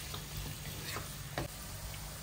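Oil sizzles steadily in a pan as meatballs fry, a constant close frying hiss with a few faint pops and ticks.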